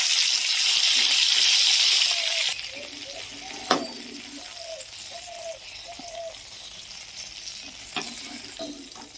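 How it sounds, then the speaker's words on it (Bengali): Prawns frying lightly in oil in a karahi, turned from side to side: a loud, dense sizzle for the first couple of seconds, then a softer steady crackle with a few sharp metallic clinks of a utensil against the pan. "মাছগুলো হালকা করে ভাজবো, বেশি কড়া করব না, এপিট ওপিট করে ভেজে নেব।"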